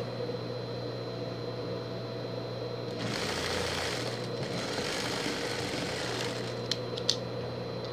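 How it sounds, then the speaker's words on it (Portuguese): Sewing machine stitching the brown fabric section of a pet carrier, a steady mechanical hum that rises into a louder, busier whir of running stitches midway, with a few small clicks near the end. "Só costurando na parte marronzinha"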